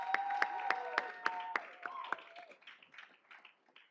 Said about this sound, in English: One more time, let's give them a round of applause.